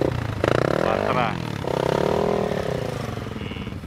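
Yamaha Sniper motorcycle on an uphill road in Palayan City, its engine revving in strong pitch sweeps as it rides close past, with a buzzing exhaust note that fades slightly at the end.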